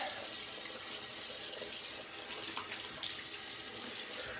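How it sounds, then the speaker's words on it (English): Tap water runs steadily into a sink for a cold water rinse after a shave, a continuous soft hiss and splash at a low, even level with no talking. "So we'll do a quick cold water rinse"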